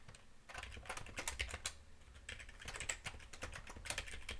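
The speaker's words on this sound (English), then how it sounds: "God, typing JSON is the worst." Rapid, uneven clicking of keys on a computer keyboard, typed up close in quick bursts with short pauses between runs, no voices.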